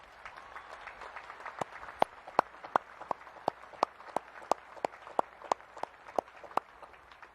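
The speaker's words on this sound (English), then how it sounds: "How about a round of applause for all those folks?" Scattered applause from the audience at a Naval Academy commencement ceremony, heard as crisp, distinct claps in a fairly steady rhythm, moderately close and spaced out rather than a dense roar.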